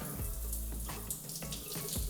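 Rain shower head running at full blast, a steady broadband hiss of spraying water close by, continuous with slight surges and no talk.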